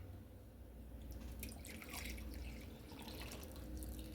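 Freshly brewed regular coffee poured into a container makes a steady, soft liquid trickle with light splashing, continuous and close, with no talk.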